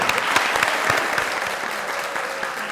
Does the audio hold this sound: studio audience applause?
yes